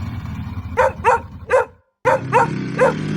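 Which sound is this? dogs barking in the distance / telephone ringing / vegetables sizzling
dogs barking in the distance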